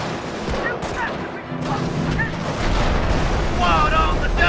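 Rifle fire and explosions from the World War II strategy game Company of Heroes rumble and crack in a dense battle din, with shouted voices layered over the noise.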